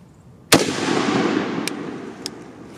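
A single loud Ruger SFAR rifle shot firing M118LR ammunition without a suppressor, a sharp close blast followed by a long reverberating tail, with two faint distant reports after it.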